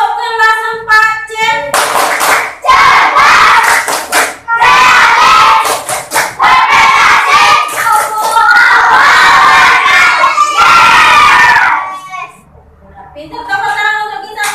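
A class of Indonesian schoolchildren in class 4C performs a rhythmic clapping chant, loud, close and energetic, with bursts of shouted group voices over quick patterned claps before an adult's voice returns at the end.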